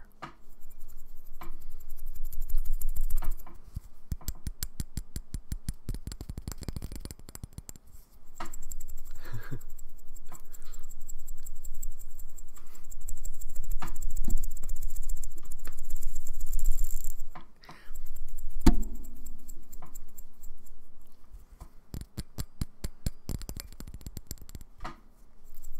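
A salt shaker shaken close up in an ASMR setting, giving rapid rattling bursts of granules in several long, rhythmic runs separated by brief pauses, with no voice.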